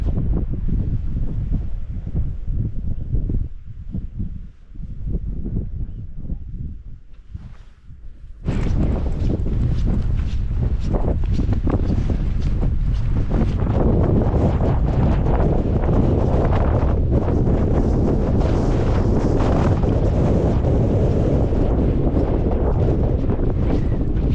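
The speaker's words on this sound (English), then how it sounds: "The wind is just picking up, so we definitely need to drop down." Strong wind on Kinder Scout moorland buffets the microphone, gusting unevenly at first, then becoming a loud, constant roaring blast for most of the clip, with no speech.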